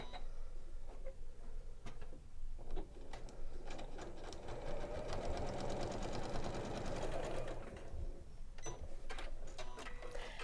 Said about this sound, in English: All right, I'm going to sew just the way I did the first time.